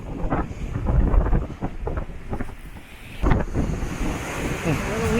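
Waves wash against the shore at a waterside campsite on the Miller Peninsula in Washington State while gusty wind buffets the microphone, with rumbling surges rising and falling and faint voices in the background.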